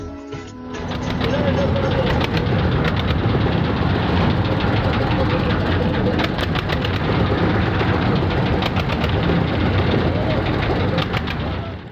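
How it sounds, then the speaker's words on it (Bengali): A river trawler boat's engine chugs loudly and steadily close by, a heavy rumbling knock that continues throughout the trip across the three-river confluence at Chandpur. "অবশেষে আমাদের ট্রলার চলতে শুরু করলো"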